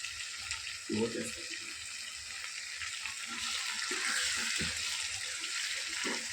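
A tomato goes into a frying pan of eggplant curry, and a steady, even sizzling hiss carries on throughout, broken by a few soft, low thumps and stirring sounds close by.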